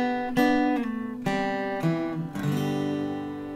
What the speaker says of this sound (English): I want to give you an exercise where you're going to do a slide going down the fretboard